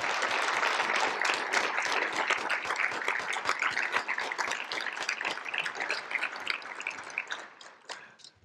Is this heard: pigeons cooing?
no